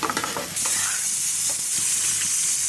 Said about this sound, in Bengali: মশলাটা ভালো করে কষায় এখন চিংড়ি দিয়েও কষাতে হবে ভালো করে